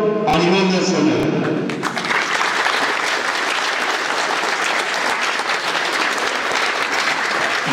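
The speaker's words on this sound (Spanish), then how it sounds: "Brindemos un aplauso en la lejanía a toda la delegación del Estado de México" Audience applause for a state delegation at a state prototype competition and young entrepreneurs' meeting, CETIS 94 in Mexico. A brief stretch of speech opens the clip, then loud, dense, steady clapping fills the rest of it.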